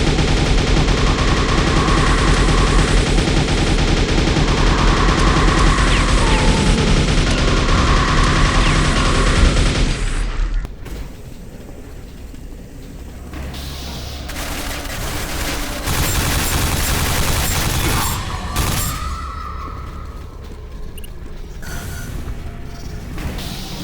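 Nail guns firing in Quake video games: dense, loud rapid-fire bursts that rattle continuously for about ten seconds, then a short pause before further mechanical rapid fire returns in quieter, more varied stretches.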